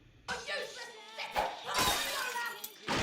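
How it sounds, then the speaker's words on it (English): A plant pot is thrown and smashes to pieces in an animated cartoon, a loud, close shattering crash with scattering fragments, heard under talking that overlaps much of it. "Here's another one being thrown, being shattered into pieces."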